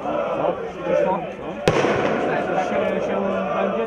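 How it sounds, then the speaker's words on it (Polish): A single sharp box-firecracker bang thrown by fans in the stands at a Polish fourth-division football match, Warta Sieradz against ŁKS II Łódź, bursts out over steady crowd noise while a commentator talks. "Wzywam kibiców o zaprzestanie używania petard pudłowych"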